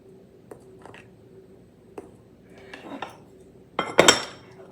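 A knife clinks and scrapes against a butter dish while butter is scooped out in a kitchen, a few light taps followed by a louder clatter of utensil on dish near the end.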